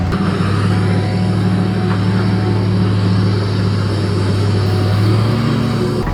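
A Duramax-powered H1 Hummer is driven in low gear on farmland, its engine a steady, loud low drone with sustained tonal hum throughout, no talking.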